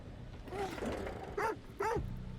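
A puppy in the horror video game The Devil In Me gives two short, clear barks in quick succession, after some faint, rough vocalizing and mechanical background noise.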